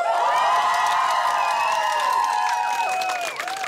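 An audience at an outdoor square karaoke show cheers and claps for a contestant, a dense, loud wash of shouts and whoops that holds steady and dips briefly near the close.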